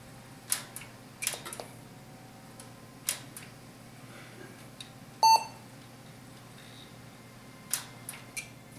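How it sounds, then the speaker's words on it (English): An old computer system sends a short beep out through a Sound Blaster card, one brief tone standing out among scattered faint clicks and ticks in a quiet room. "that beep was my system"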